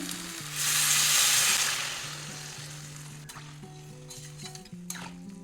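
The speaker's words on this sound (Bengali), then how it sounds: "এবারে জল দিয়ে দেবো হালকা গরম জল করে দিচ্ছি" Lukewarm water poured into a pan of sizzling tomato and green chilli for a fish curry with potato and drumstick, a burst of loud hissing that quickly settles into a softer simmering sizzle, with faint clinks of a utensil near the end.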